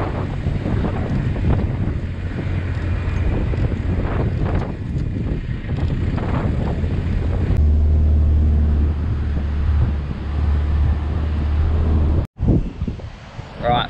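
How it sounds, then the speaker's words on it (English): Strong wind buffets the microphone on a beach at Salt Creek, a steady low roar with gusts running the whole time, while a person talks over it through the first part. "It is a bit windier than I thought."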